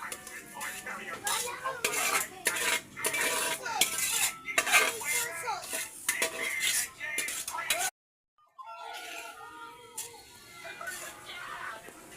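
Spaghetti carbonara being stirred into sauce in a pan, with quick metallic scraping and clinking of a utensil against the pan, a brief silence, then softer stirring with a voice speaking.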